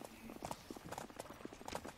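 Cavalry horses' hooves clip-clop in the medieval video game Life is Feudal during a castle defense, an irregular patter of many close, fairly loud hoofbeats.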